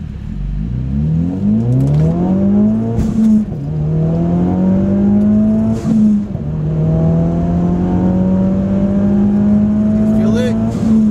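A 2017 Ford Focus RS engine revs up under hard acceleration, pitch climbing steadily through two quick gear changes before pulling again, loud and close from inside the car.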